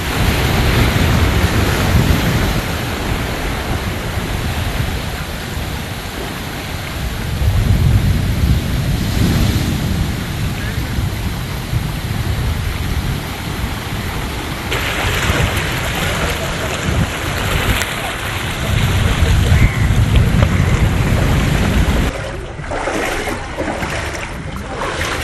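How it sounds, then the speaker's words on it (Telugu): Sea waves surge in heavy rain and strong winds on the coast at Kannamali and Chellanam in Kochi, a continuous loud wash and roar rising and falling in swells, with wind buffeting the microphone. "భారీ వర్షం, ఈదురుగాలుల కారణంగా కొచ్చిలోని కన్నమలి, చెల్లనం ప్రాంతంలో సముద్రంలో అలలు జనావాసంలోకి పోటెత్తాయి"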